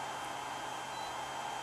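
A hair dryer runs indoors with a steady, even whir and airy hiss that holds a constant pitch for the whole stretch, with no speech.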